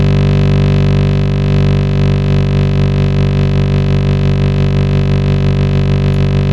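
A Reese bass built from a one-shot drum-and-bass kick sample drones steadily and loudly, its dense low harmonics pulsing with a slow frequency-shifting wobble and slight volume swell, with no voices.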